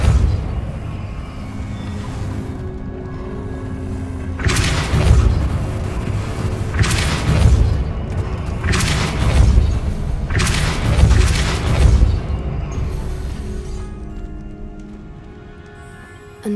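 Deep booming blasts from the Depulso force spell in Hogwarts Legacy thud out about five times at irregular intervals over a low ambient game background, loud and heavy in the low end.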